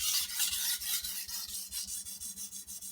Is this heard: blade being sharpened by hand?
yes